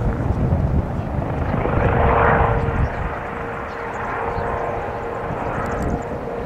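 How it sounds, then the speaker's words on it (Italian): Firefighting helicopter hovering over the sea to scoop up seawater at a bay on Ischia during a hillside wildfire, a loud steady rotor and engine roar throughout that swells briefly before settling. "Da Napoli è giunto anche un elicottero che si rifornisce di acqua marina nella suggestiva Baia dei Maronti"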